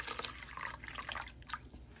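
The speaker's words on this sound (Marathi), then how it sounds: "यात आपण पाणी घालूया आणि हे स्वच्छ धुवून घेणार आहोत।" Basmati rice being rinsed in water, with soft splashing and dripping sounds that are quiet and close.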